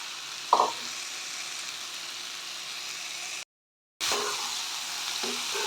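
Chopped onion flowers land in a pan of frying tomatoes with a sharp tap, then a steady close sizzle that drops out briefly and resumes, with scrapes of stirring.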